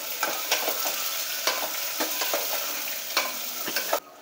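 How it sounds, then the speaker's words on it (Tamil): Shallots cut in halves sauté in a hot pan with a constant bright sizzle, broken by several sharp spatula scrapes and clinks as they are stirred, close and fairly loud. "இப்போ நம்ம சின்ன வெங்காயம் இவ்வளவு கட் பண்ணி வச்சுருக்கேன், ரெண்டு ரெண்டாக அதை போட்டு வதக்கிக்கலாம்."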